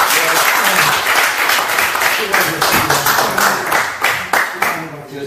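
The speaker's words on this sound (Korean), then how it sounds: "자, 그럼 박수 한번 주세요." Audience applause at a workshop session, a dense, steady wash of many hands clapping throughout, fairly loud, with a few louder individual claps near the end and some talk mixed in.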